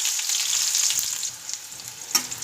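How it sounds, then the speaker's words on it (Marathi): Sliced onion frying in hot oil with cumin and mustard seeds gives a steady, close sizzle, with a few faint stirring scrapes and one brief spatter near the end. "हा कांदा आपल्याला यामध्ये छान परतून घ्यायचा आहे"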